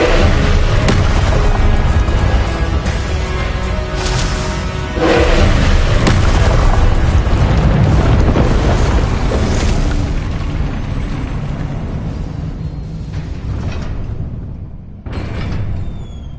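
Repeated Confringo fire spells cast in Hogwarts Legacy, heavy booming blasts and rumbling impacts filling a dense, loud game soundscape, with a few sharp bursts and a fade near the end.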